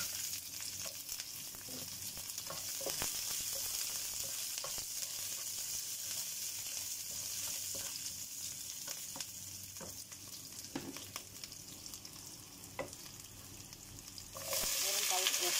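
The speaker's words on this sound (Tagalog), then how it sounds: "Dito naman sa kabilang kawali, nagisa tayo ng bawang" Garlic and onion sautéing in a frying pan, a steady close sizzle broken by frequent ticks and scrapes of stirring, louder and brighter in the final second.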